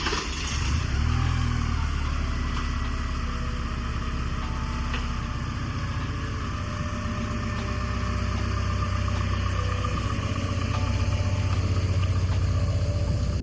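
Car engine idling steadily as the car is pulled out of a workshop, a low continuous rumble that rises slightly near the end, close and moderately loud with no voices.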